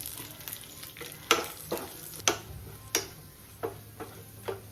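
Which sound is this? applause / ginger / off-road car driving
ginger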